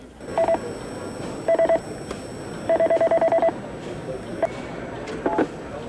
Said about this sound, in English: the paramedic on the scene is able to dial long distance on the ALS, the Advanced Life Support Communication System